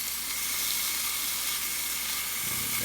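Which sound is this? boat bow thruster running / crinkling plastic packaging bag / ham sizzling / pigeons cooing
ham sizzling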